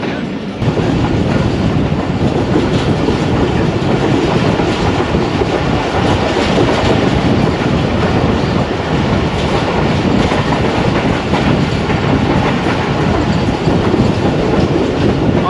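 Jaffar Express passenger train on a single line in winter, near Mandra station: steady, loud rolling rumble with wheel clatter throughout, no talk.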